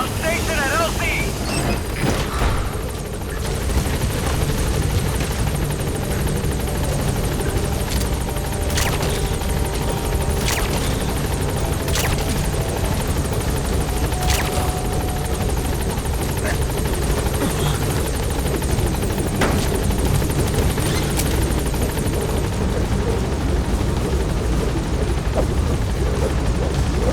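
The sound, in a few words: helicopter flying, from video game Metal Gear Solid V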